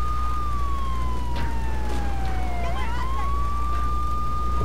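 A police car siren in the video game GTA 3 wails in a slow falling and rising sweep, steady and fairly loud over a constant low engine hum.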